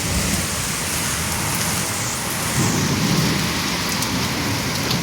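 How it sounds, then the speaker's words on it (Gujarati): Heavy rain pours down onto a rooftop terrace in a dense, unbroken hiss, close and loud, with a low rumble of thunder rising briefly partway through; no voices are heard. "ફૂલ વરસાદ આવ્યો ગાઈઝ."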